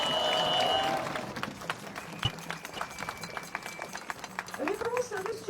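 A protest crowd in La Rochelle, demonstrating against the health pass, gives a marching brass band a short burst of clapping that thins into scattered claps among voices and shouts.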